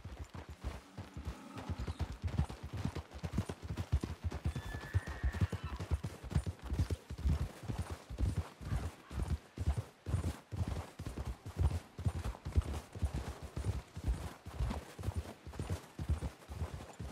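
Horse hooves clip-clopping in the Western video game Red Dead Redemption, a steady rhythmic walking gait of close, distinct hoof thuds continuing throughout, with a faint snort or whinny early on and no talking.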